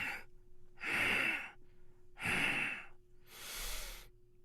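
Heavy, breathy panting from an unseen hunter on the chase, three drawn-out rasping breaths spaced about a second apart, close and eerie over a low steady hum in a dark horror game.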